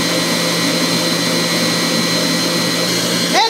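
An Instant Pot Stand Mixer Pro whipping cream at top speed, giving a loud, steady motor whine with a constant hum that holds evenly throughout and shifts slightly right at the end.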